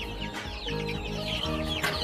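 A flock of indigenous chickens on a farm clucks and murmurs nearby, overlapping calls rising and falling continuously with a few sharper squawks.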